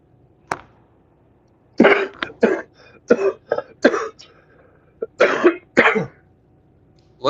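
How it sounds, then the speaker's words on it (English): A fit of harsh coughs comes in quick clusters, several bursts separated by brief quiet gaps, loud and close. "Had a coughing fit."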